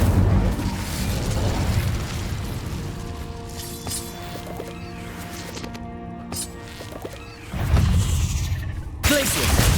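A fiery blast from the Incendio spell in the Hogwarts Legacy video game, a loud whooshing burst over a rumbling game soundscape, with a sharp second flare near the end.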